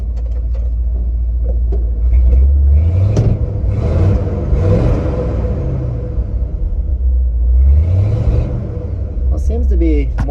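A 1970 Ford 600 hay truck engine runs steadily with a deep, loud low rumble, swelling and easing as it revs, and the drone carries on throughout.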